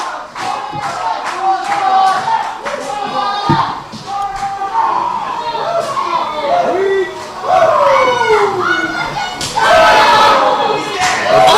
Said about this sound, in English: listen to this Paulsboro crowd